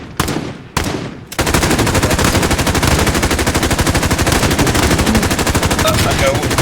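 Loud, sustained automatic gunfire in a battle royale video game, two short bursts followed by a long unbroken rapid stream of shots close up, dominating the mix.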